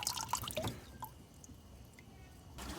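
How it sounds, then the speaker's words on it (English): Muriatic acid solution fizzes inside a Jandy salt cell, giving faint, close drips, pops and small gurgles that come irregularly over a quiet background. "But if it's bubbling, wait till all the bubbling is gone."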